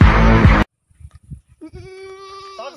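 A goat bleats in a wavering, drawn-out cry in the second half, coming after a burst of loud sound, a silence and a few soft knocks.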